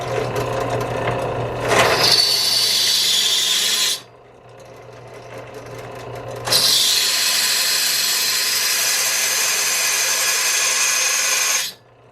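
A power drill with a worn-out bit whines loudly up close in two long bursts, a high grinding buzz that stops for a couple of seconds between runs.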